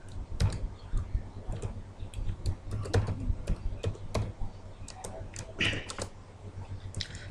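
Fast, steady keystrokes on a computer keyboard while Java code is entered, crisp clicks in quick irregular bursts, close and clear with no talking.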